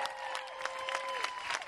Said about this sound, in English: Give a round of applause for the Meadows Racetrack and Casino Families here today.